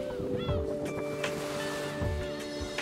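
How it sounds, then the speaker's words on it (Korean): Waves wash and surge steadily by the shore of a Korean island, with wind and a low engine hum underneath and faint seagull calls. "파도 소리가 반가움을 전하는 곳"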